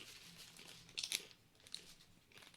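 A Burger King hard-shell taco gives faint, brittle crunches as it is chewed, with a sharper crackling burst in the middle and a few softer crunches after it. No one talks.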